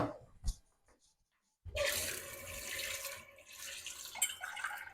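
Tap water running into a pot being filled for boiling dumplings, a splashing gush that starts abruptly after a few faint clinks and continues close and steady with slight changes in pitch.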